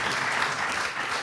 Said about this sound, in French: C'est des vidéos qui démarrent avec applaudissements.